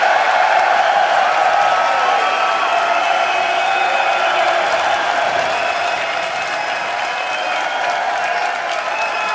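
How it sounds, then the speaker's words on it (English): A large crowd at a League of Legends EU LCS esports event claps and cheers steadily in a dense, sustained wash of applause that barely fades. "I don't think they're ever going to stop clapping"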